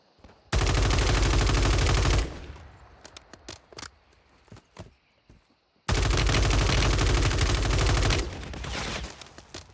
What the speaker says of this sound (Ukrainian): Кулемет в нього.